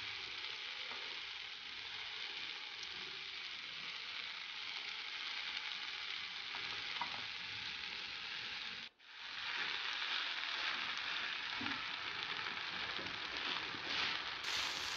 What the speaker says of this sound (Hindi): अब फिर से इसके ऊपर आलू डाल दें कद्दूकस किए हुए।